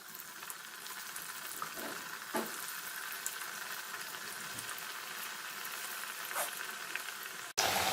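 Slices of alu vadi deep frying in hot oil make a steady, dense sizzle and bubbling hiss throughout, close and even, with a few faint clinks and no talk.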